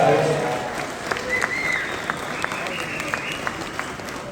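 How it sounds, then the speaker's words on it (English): Audience applause at a heavy metal Q&A event, a steady wash of clapping across the room with scattered sharper claps standing out, some voices mixed in under it, moderately loud throughout. "I think that deserves a round of applause."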